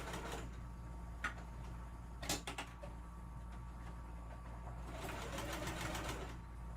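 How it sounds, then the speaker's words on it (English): Sewing machine stitching a Halloween tote bag, a steady rapid mechanical whirr running in stretches with brief pauses and a few clicks, close and alone. "I'm just going to sew the next one down"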